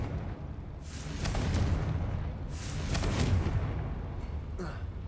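The Confringo explosion spell is cast in Hogwarts Legacy inside a small mine, producing deep rumbling booms in two swelling waves with a crackling, hissy burst at each blast, loud and close.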